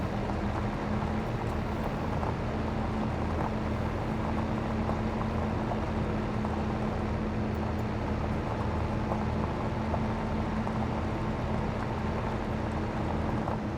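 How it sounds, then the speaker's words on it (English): A small tractor in the Farming Simulator game idles and drives with a constant low engine hum and a steady tonal whine, unbroken and even throughout, with no voices. "This is a great little tractor."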